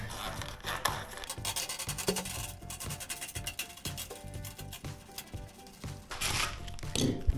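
Floor heating thermostat sensor being pushed into a conduit during kitchen and bathroom electrical work, giving close, continuous rubbing and scraping with irregular rasping bursts, no speech.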